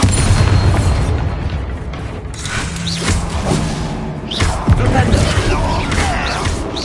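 Bombarda blasting spell in the Hogwarts Legacy game, with booming explosions and popping bursts in a noisy fight while a voice talks over the action.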